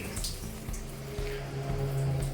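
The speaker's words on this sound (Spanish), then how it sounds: "Se sube la palanquita y empieza a echar agua por arriba." Water pours from a shower mixer tap in an old-style bathtub in Cienfuegos, Cuba, a steady close splashing rush lasting about two seconds with no talking.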